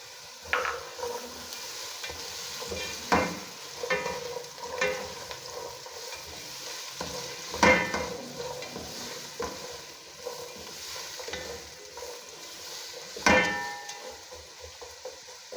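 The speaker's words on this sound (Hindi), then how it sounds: "गाजरों को हमने अच्छी तरह से लहसुन के साथ इसको फ्राई करना है।" Finely cut carrots fried with garlic in a pan, giving a soft continuous sizzle broken by repeated scraping and clinking strokes as the food is stirred.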